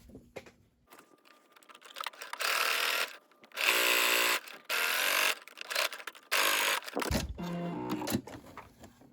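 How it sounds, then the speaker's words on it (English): A sewing machine runs in a few bursts, each lasting about a second, with pauses in between, as it sews a tape measure into a snap pouch. "Okay, so let me sew this side up."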